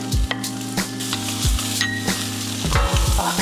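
Garlic fried rice with rotisserie chicken and sausage sizzles loudly in a pan while a utensil stirs it, with repeated low scraping strokes against the pan throughout.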